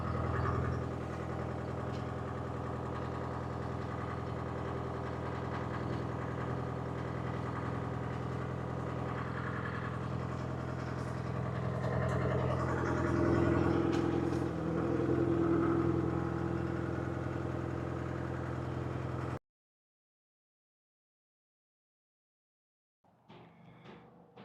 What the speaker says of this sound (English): It's got a straight 4-inch pipe out the back of this beast, and it just sounds like a freight train coming down the road.